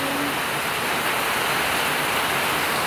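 Heavy rain pours down on a street in a dense, steady roar, loud and unbroken throughout.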